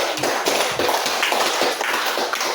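Classroom applause from a group of students, a dense, steady clatter of many hands clapping continuously throughout, fairly close and loud, with no speech over it.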